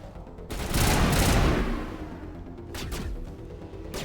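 A rapid burst of gunfire rattles out in a Mass Effect battle, loud and close, then fades before a second, softer volley follows.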